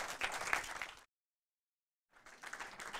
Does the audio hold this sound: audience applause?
yes